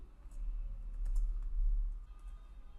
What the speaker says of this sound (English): And here you can start typing.